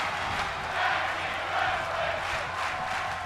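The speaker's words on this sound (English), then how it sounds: "The crowd here chanting tag team wrestling." Arena crowd noise from the WWE 2K22 wrestling game during a tag team match, a steady roar of many voices with rising and falling chant-like swells, continuous and fairly loud throughout.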